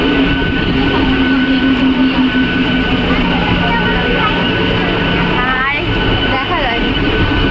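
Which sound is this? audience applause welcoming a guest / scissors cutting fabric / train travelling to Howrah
train travelling to Howrah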